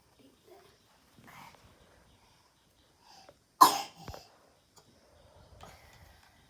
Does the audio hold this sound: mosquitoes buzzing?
no